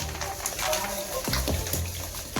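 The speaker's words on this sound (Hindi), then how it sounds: "पहले पानी चला देने, इसको भिगा करके रखेंगे" Water from a tap runs steadily into a bucket to soak a big pile of laundry, a soft continuous splashing with a few brief knocks, heard fairly close.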